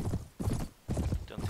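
Horse hooves clip-clop in the Mount & Blade video game, a pony trotting in loud, close bursts of rapid hoofbeats with brief pauses between them.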